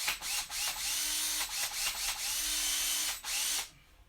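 A power drill bores into an RC truck during shop repair work, a loud whirring drone in several bursts with short pauses between, close up and with no talking.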